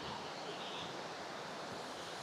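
Shera river stream flowing, a continuous broad rushing roar of water, steady and fairly loud with no breaks.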